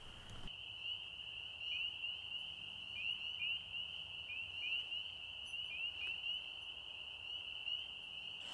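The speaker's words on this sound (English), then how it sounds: "there's definitely wood frog activity and spring peepers going on now" Spring peepers and wood frogs call together outdoors during amphibian breeding season, a steady high chorus of overlapping peeps running continuously at a moderate distance with no talking.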